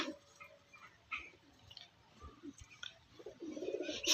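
White pigeons coo softly in short, low, scattered calls, with faint ticking and small rustles around them and a louder burst near the end.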